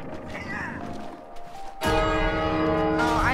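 Church-style bell in the video game It Takes Two, one ringing toll striking suddenly partway through and sustaining with a bright, rich ring after quieter game sounds.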